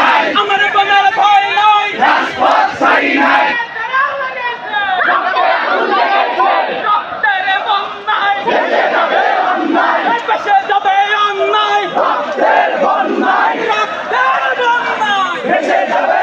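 Protesting university students chant slogans together in a loud, continuous crowd roar with rhythmic shouted phrases and overlapping voices throughout.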